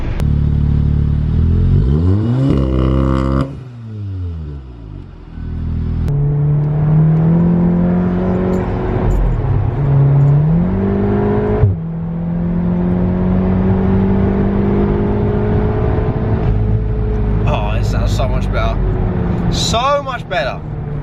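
A Volkswagen Golf R with a modified valved exhaust revs and accelerates, its engine note rising and falling in several long pulls over a shift, loud and close with a faint whirring underneath.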